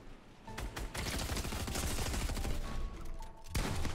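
Fortnite gunfire, with a steady stream of rapid automatic shots rattling loudly and close for several seconds, followed by a sharp fresh burst at the end.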